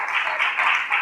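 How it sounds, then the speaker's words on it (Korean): Audience applause for a guest introduced at a political platform's founding assembly, a steady dense wash of clapping lasting about a second with no pauses. "큰 박수 부탁드립니다"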